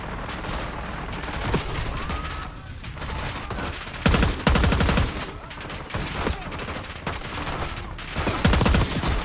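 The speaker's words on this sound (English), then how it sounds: "me just running guns blazing like this" Intense automatic gunfire in the Black Ops 6 campaign, with dense bursts of rapid shots, several heavy volleys and a constant crackling battle din running throughout, largely without voices.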